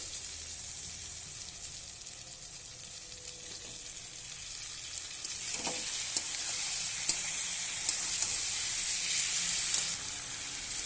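Potatoes and raw green banana sautéing in a spice paste, a steady bright sizzle throughout with occasional stirring scrapes, louder in the second half.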